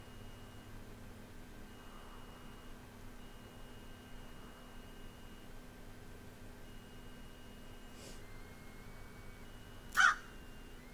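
A single sharp crow call in West of Loathing rings out near the end, preceded by a fainter call, against a low steady hum and otherwise quiet surroundings.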